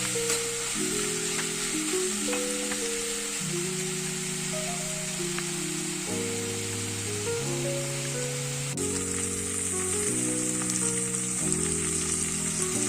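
Onions fry on high gas flame with a steady, dense sizzle throughout, while tonal music plays prominently over it with no talking.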